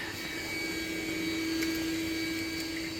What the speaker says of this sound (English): then he'll vacuum it out